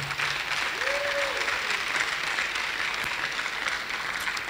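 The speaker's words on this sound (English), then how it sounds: "Please keep on clapping for her." A crowd claps steadily for a speaker being welcomed at a university technology week event, dense applause sustained throughout with a brief whistle rising above it early on.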